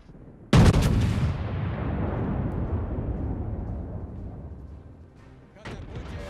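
Scharnhorst battleship naval guns in World of Warships fire with a sudden heavy boom, followed by a long rumbling roll that fades over several seconds, then a second sharp report near the end.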